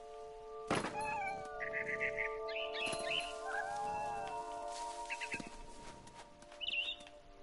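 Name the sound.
cat meowing in What Remains of Edith Finch video game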